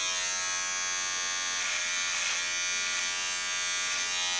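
Electric hair clippers buzz steadily throughout a home haircut, a bright continuous hum that shifts slightly as the blades move through hair, with no talking.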